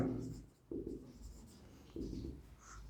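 Pen or pencil strokes scratch on paper in short bursts, two distinct writing passages separated by pauses, faint and close against a quiet room with low background hum.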